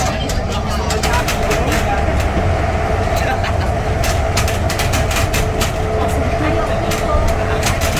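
A steady, loud rumble fills the inside of a train carriage on a ride from the airport, with faint rhythmic clicks over the rails and voices murmuring in the background.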